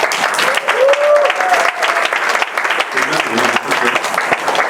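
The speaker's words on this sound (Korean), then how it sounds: "중고등부 연합 찬양팀에게 뜨거운 박수 부탁합니다." Sustained, dense applause from a church youth retreat congregation honoring a combined youth and student worship team, loud and steady throughout with some faint voices mixed in.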